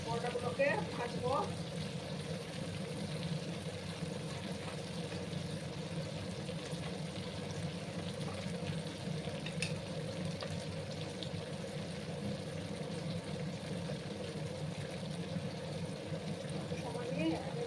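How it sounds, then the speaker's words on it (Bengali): Bitter gourd sizzles steadily in oil in a frying pan, a faint, continuous crackle with no break. "সময় নিয়ে আমি করলাগুলোকে ভেজে নিচ্ছি বন্ধুরা"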